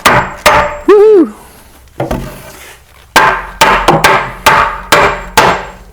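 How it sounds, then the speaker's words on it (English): A hammer drives nails into the end band of a floor joist with sharp, loud, ringing blows, first a few and then a rapid series, with a brief squeaky sound near the start. "You just nail them straight to the end band there."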